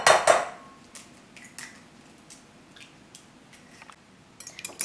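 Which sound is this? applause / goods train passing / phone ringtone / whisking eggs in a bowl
whisking eggs in a bowl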